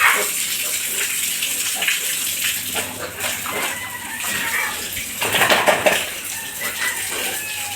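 Water splashing and gushing as pigs are bathed on a hot day, a steady broadband wash with bursts of heavier splashing, close and fairly loud, with faint background animal sounds.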